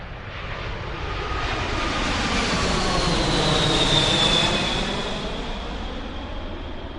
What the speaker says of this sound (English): if you've lived near an airport, you know only too well that aircraft are really noisy.